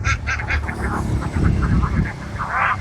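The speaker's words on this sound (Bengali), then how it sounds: "হাঁসগুলো" Ducks on a farm beside a canal quack and honk in a lively, close flock, calls overlapping in quick bursts with a bit of background noise.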